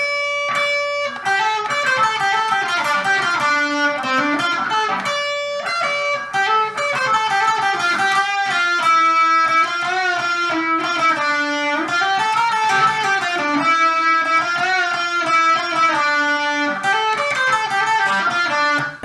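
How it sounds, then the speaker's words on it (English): A distorted electric guitar plays a solo as a dense, continuous stream of sustained, bending lead notes. It is loud and steady for about nineteen seconds with no talking. "The last part is the solo, which should sound like this."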